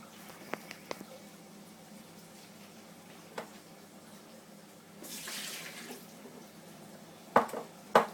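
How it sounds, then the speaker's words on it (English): Water splashes and runs into a sink in a short gush near the end, with a few clinks of dishes earlier and a quiet kitchen hum. "Tip that water away."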